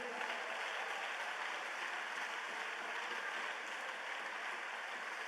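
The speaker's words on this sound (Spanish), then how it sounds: "Denle ese aplauso al Señor si usted cree." Applause from a church congregation during a sermon, a steady, fairly faint wash of clapping that holds evenly for the whole stretch, heard alone without talk.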